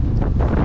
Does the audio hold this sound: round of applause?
no